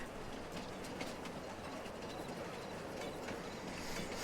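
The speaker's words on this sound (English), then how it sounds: "Train is almost here." A train arriving in Farming Simulator 22, a steady rolling rumble with faint clicking of the cars, moderately quiet and continuous with no speech over it.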